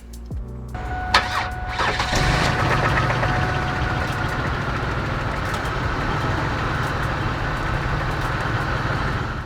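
An old, overheating Pontiac Grand Prix engine cranks, catches and settles into a rough, rumbling idle that continues steadily, with no voices.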